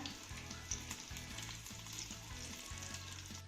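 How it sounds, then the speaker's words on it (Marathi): Colocasia leaf rolls (alu vadi) shallow-fry on a low flame, producing a soft, even sizzle with fine crackling, quiet and steady throughout over a faint low hum. "लो फ्लेम वरती आपल्याला या वड्या दोन्ही बाजूनी छान अशा सोनेरी रंगावरती भाजून घ्यायच्या"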